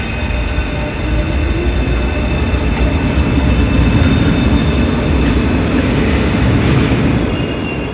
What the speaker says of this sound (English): we see two of these shiny red Iryo trains